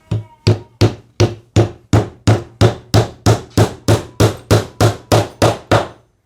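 Galvanized clamp nails are hammered into plasterboard with a quick, even run of about eighteen sharp knocks, close and loud, with no talking.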